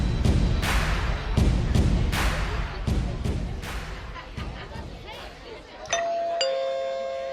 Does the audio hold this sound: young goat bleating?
no